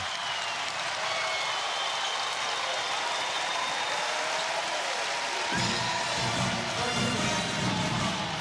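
Basketball arena crowd roaring steadily and loudly at a Hawaii Rainbow Warriors versus UC Santa Barbara Gauchos men's game, the dense noise swelling further after a few seconds with no break.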